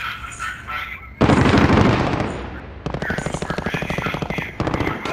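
Heavy close automatic gunfire in the video game Call of Duty: Modern Warfare, a dense sustained burst followed by rapid rhythmic firing with short pauses, while voices speak faintly beneath.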